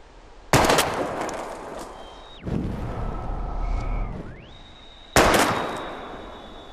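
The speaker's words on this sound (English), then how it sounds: "We're gonna shoot all these bottles without wasting a single bullet." Three sharp, loud gunshots aimed at bottles in the game Life Is Strange, Episode 2, ring out spaced a couple of seconds apart, each with a ringing tail, and sustained electronic tones fill the gaps between them.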